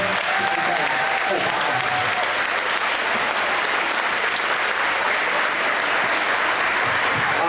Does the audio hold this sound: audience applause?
yes